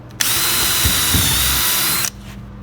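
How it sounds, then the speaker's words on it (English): A power drill bores pilot holes into dense plywood for a shipping crate, one continuous loud high whine lasting about two seconds, starting and stopping abruptly, with no talking. "So I'm going to use a drill just to pre-drill the holes"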